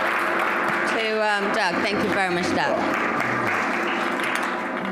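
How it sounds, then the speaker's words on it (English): Audience applause for a speaker at a live event: a steady wash of clapping runs through the whole stretch while someone speaks over it, thanking someone. "Give a big round of applause to"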